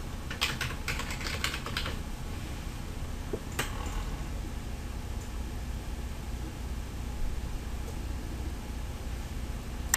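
Computer keyboard typing while adding text in GIMP: a quick cluster of soft key clicks near the start, then a few scattered taps over a steady background hiss.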